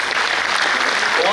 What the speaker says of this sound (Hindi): एक बार उनके लिए जोरदार तालियां बजाएं